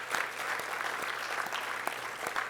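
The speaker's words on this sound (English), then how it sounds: "Please join me to give them big applause to donors." An audience at an opening ceremony applauds the donors, steady close clapping with sharp individual claps throughout.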